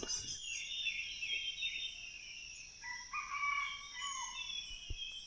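A rooster crows repeatedly outdoors among other chickens, the strained call fairly close and rising over a faint background of clucking fowl, with no talking.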